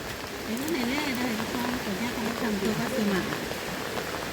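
Rain falls steadily in rural Thailand, a continuous hiss of drops on surfaces with a person talking and singing over it.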